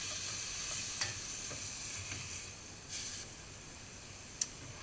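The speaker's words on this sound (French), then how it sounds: "je vais déglacer avec tout petit peu de vin blanc" Fennel in a pan deglazed with a splash of white wine gives a soft, faint continuous sizzle, broken by a few light utensil clicks and taps nearby.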